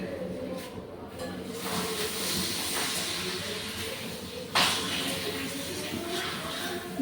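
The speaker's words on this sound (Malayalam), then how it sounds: "പപ്പടം 5 എണ്ണം ഞാൻ വറുത്തെടുത്തിട്ടുണ്ട്" Papadums fry in hot oil, giving a continuous bubbling sizzle with a sharp louder burst about midway as one enters the pan; faint talk is audible in the background.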